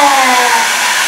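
A hair dryer blows hot air at high setting during a children's science experiment, a steady close whooshing hiss with a whining motor tone, running continuously and alone.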